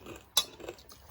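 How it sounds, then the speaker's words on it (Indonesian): A metal spoon clinks once against a dish at a noodle mukbang, a single bright close tap standing out over quiet room noise and faint scraping. "Itu sendok."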